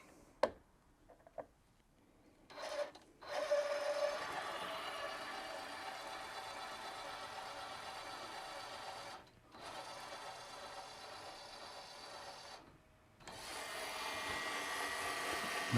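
A machine taps holes in half-inch metal plate with a steady, close mechanical whir. It is broken by a few brief stops and restarts after some clicks and knocks at the start.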